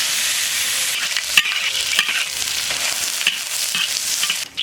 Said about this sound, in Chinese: 直接用鸡油上锅炒。